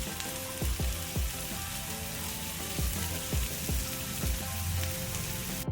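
Ginger hitting hot oil in a pan while a fish curry is cooked, giving a steady, close sizzle with a few soft low thumps and stirring knocks throughout.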